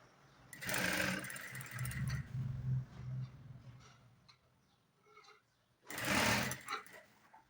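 Sewing machine stitching a full round of a garment, with two loud close bursts of fast mechanical whirring separated by a quieter pause containing faint handling noises.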